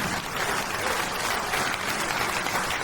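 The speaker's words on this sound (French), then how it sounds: "Encore beaucoup d'applaudissements pour tous les bénévoles." Sustained applause for volunteers at an orchestra gala for the Chauvigny wind band, a dense crowd clapping steadily and evenly throughout, with no voice above it.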